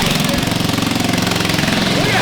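A homemade go-kart engine running away, a loud, close, rapid pulsing rattle that chugs steadily throughout, with voices talking over it.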